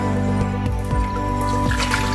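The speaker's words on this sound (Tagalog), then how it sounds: "Ilagay na natin ang chicken broth" Chicken broth is poured into a cooking pot of vegetables and water, giving a continuous close trickle and splash. Soft dripping and knocking sounds come through a constant kitchen hum, and no one speaks.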